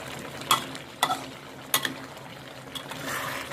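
Eggplant is stir-fried over high heat for a spicy catfish stir-fry: a steady sizzle in the wok under several sharp scrapes and clinks of a spatula against the pan.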